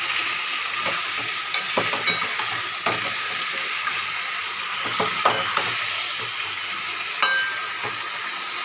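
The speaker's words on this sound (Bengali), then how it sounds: "এইবার আমি এটা একবারে তেলে এবার দিয়ে দেবো এটা মাংসটা" Meat dropped into hot oil in a home kitchen, a steady bright hiss of frying with intermittent clicks and scrapes of stirring, close and even, no one speaking.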